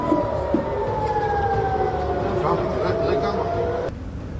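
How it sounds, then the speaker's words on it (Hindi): An air raid alert siren in Tel Aviv wails, rising and falling steadily over background rumble, with voices talking faintly beneath it. "राजधानी तेल अवीव में भी अलर्ट सायरन बज गए"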